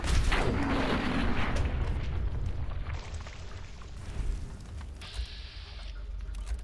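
A rumbling explosion in the Fallout 4 video game, a deep boom with a rolling, debris-filled tail that fades over several seconds.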